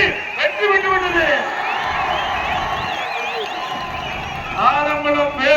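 A large outdoor crowd at a political rally in Alangulam roars and cheers continuously, a dense sustained wash of voices with whistles and shouts, and a loudspeaker voice speaking over the top at the start and end.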